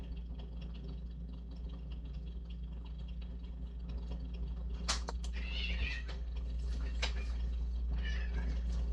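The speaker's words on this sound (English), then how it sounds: "What do you want, kitty cat?" A pet cat meows indoors, a few short faint cries in the second half over a steady low electrical hum, with no talking.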